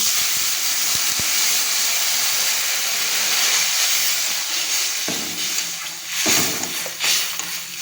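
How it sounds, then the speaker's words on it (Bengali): Water poured into a hot pan of sautéed potatoes and spices for an egg curry sets off a loud, continuous steam hiss and sizzle that eases into softer sputters. "আলু আর মশলা খুব একসঙ্গে ভালো করে কষে নিয়েছি, এবার আমি জল দিয়ে দিচ্ছি"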